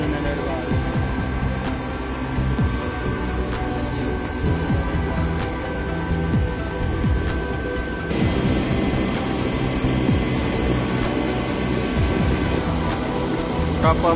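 Rooftop HVAC exhaust fan beside a chiller unit runs with a steady, loud mechanical drone and hum, broad and unbroken throughout, with faint clicks and a slight shift partway through.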